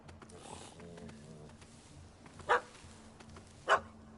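A dog in The Witcher 3 gives two short, sharp barks a little over a second apart at a cat up a tree, heard over faint background murmur and some speech.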